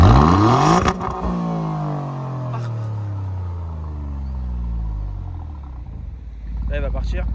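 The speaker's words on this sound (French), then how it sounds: "Du coup là on aura une petite accélération." An Alfa Romeo Giulia Quadrifoglio revs up and pulls away, its engine note sweeping down and across in long gear-like glides, loud and close, with a brief crackle at the end.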